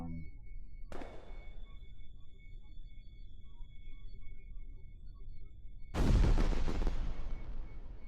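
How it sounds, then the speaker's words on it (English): Fireworks bursting in Kerbal Space Program: one sharp pop early, then a louder crackling burst that decays slowly over a low steady game hum with a faint sustained tone. "Yay, we have fireworks."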